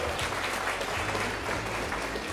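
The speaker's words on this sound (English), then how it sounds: "So we give them a round of applause once more." Steady applause from an audience at a festival launch in Trinidad and Tobago, a dense, even patter of many hands clapping without a break.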